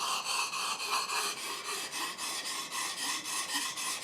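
An Esee 5 knife blade is re-edged on a whetstone, giving steady rhythmic rasping strokes, about four per second. The scraping is close, loud and continuous, with no talking.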